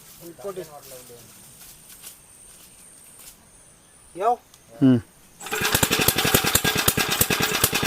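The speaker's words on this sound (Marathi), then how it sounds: "चला मशीन चालू झाली आपली पाणी आला आला पाणी पाण्याला स्टार्ट झाला" A kick-started irrigation water pump engine at a farm field edge bursts into a loud, steady chugging run after brief voices, its rapid regular firing continuing to the end.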